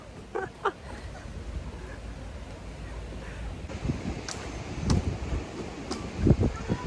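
Steady wind rushing across an outdoor microphone in Goa, rumbling low with occasional gusts and a few faint higher sounds in the background.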